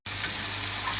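Onions and mushrooms sizzle steadily in a hot pan while being stirred, a close, even frying hiss with no pauses and no talk.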